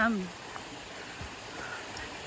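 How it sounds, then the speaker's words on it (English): A creek flows beneath a trail in New York along the Appalachian Trail, its steady, faint water noise running under a soft backdrop, briefly preceded by a short voice. "Water is definitely flowing here. It's a nice change. You can hear it down under there."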